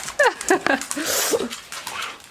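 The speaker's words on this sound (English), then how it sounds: "It's just dogs everywhere." A dog whimpers close by in a few short, rising yelps, then pants with breathy, hissing breaths.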